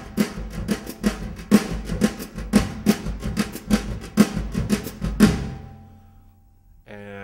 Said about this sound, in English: I'm going to play that pattern with the right hand playing the brushes